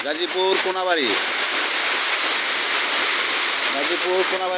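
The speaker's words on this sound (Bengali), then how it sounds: "এই দেখেন কিরকম বৃষ্টি হচ্ছে।" Heavy rain pours down in a dense, constant hiss, heard through an open window in Konabari, Gazipur, with a person talking briefly at the start and end.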